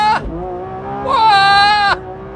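Lamborghini Revuelto engine revved hard in first gear up toward the limiter, two sharp rising high-pitched wails with a drop between, loud and close, no talking.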